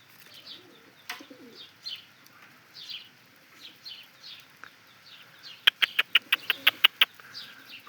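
Domestic pigeons in a loft coo softly and repeatedly, with a quick run of sharp, loud clicks partway through.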